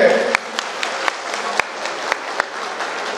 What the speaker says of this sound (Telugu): గట్టిగా చప్పట్లతో లక్ష్మణ్ గారి స్వాగతం పలకాలని కోరుకుంటున్నాం